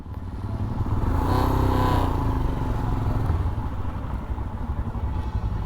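A Royal Enfield Himalayan motorcycle engine runs steadily up close, a dense, even drone with a slight swell in the middle and no voices over it.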